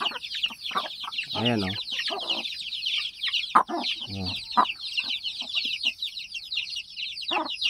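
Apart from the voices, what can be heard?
chickens clucking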